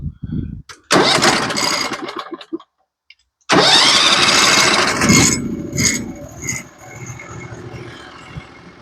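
A Norwood HD36v2 bandsaw mill fitted with a Stellicut band cuts through silver maple slabs, a loud broadband whine and rasp that starts, breaks off briefly, then resumes and tapers toward a steady hum.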